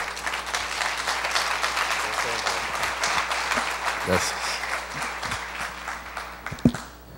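Sustained applause from a church congregation, a dense, even wash of clapping gradually thinning toward the end, with a voice speaking briefly over it.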